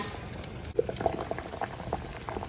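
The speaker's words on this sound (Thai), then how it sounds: "น้ำก็เดือดแล้วนะคะ" Water boils in a pot for Thai Gang Liang curry, bubbling and popping in irregular bursts over a constant low rumble, close and alone.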